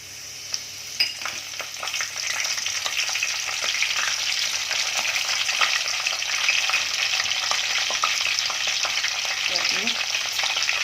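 Cumin seeds and chopped curry leaves hit hot oil for a Konkani fish curry and settle into a loud, dense, continuous sizzle with faint scattered crackles, steady for about ten seconds without speech.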